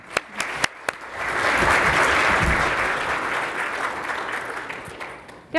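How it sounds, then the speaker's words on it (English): An audience at an aviation symposium on autonomous vehicles gives a full round of applause welcoming the speakers: sustained, dense clapping that swells and then slowly thins, with a few isolated claps at the start and end. "we should give them a round of applause and a warm aviation welcome"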